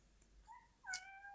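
June, a black cat, gives two short, close meows, a soft rising one followed by a louder, longer one, in a quiet room.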